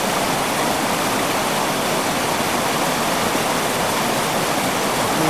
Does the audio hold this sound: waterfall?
yes